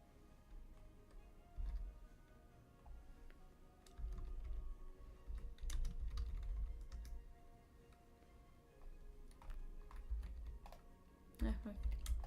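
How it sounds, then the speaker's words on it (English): Computer keyboard typing comes in scattered bursts of quick clicky keystrokes, close and moderately loud, with quieter gaps between, over low room noise. "Yeah, my keyboard."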